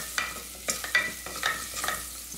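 Green chilli, ginger and garlic stirred as they fry in a pan, giving a few quick scraping strokes over a faint sizzle.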